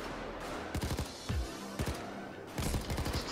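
Gunfire in the video game Payday 2, several bursts of rapid automatic shots with short gaps between them, loud and close.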